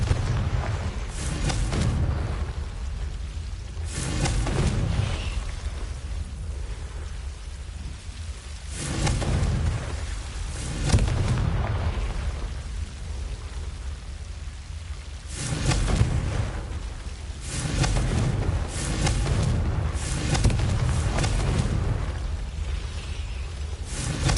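Confringo explosion spells in Hogwarts Legacy, a series of loud booming blasts with rumbling tails recurring every few seconds, crackling debris between them.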